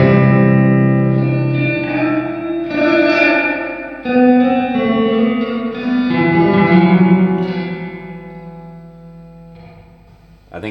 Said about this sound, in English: You can go crazy amounts of reverb by using that blend.